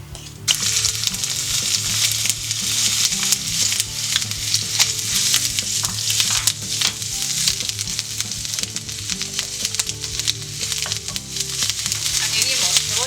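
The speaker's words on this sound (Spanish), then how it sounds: "Ponemos aceite a calentar en una sartén y ponemos dentro la pasta de ajo y jengibre." Garlic and ginger paste crackles loudly and steadily in hot oil in a frying pan, a dense continuous sizzle with a low steady hum beneath and occasional stirring scrapes throughout.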